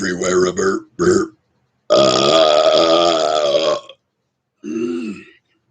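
A person belches out long, drawn, tonal burps in a rhythm that follows a sung tune, with short clipped burps first, then one sustained burp and a final shorter one, loud and close.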